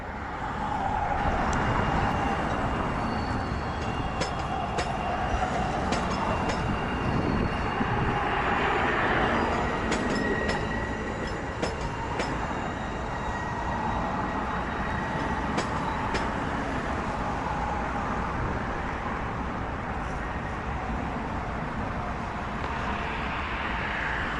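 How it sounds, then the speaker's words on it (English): Amtrak train hauled by a pair of P42 diesel locomotives, a loud continuous rumble of engines and rolling cars, with occasional high squeals and clanks over the steady roar. "Here, we see a pair of P42s on another Amtrak train"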